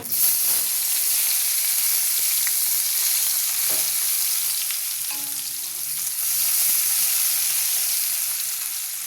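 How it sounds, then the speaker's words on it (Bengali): Onion frying with nigella seeds in a wok, a loud, continuous sizzle and hiss of hot oil with small crackles and faint stirring scrapes throughout. "কড়াতে দিয়ে দিলাম কালো জিরে, এইবারে পেঁয়াজটা দিয়ে দিব"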